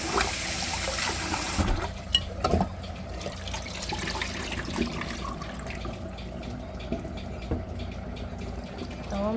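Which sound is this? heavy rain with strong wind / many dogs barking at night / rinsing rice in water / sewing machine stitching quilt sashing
rinsing rice in water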